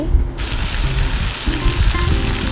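Fish fingers frying in about half a kilo of hot oil, a dense steady sizzle and crackle close up, continuous with faint low clatter underneath.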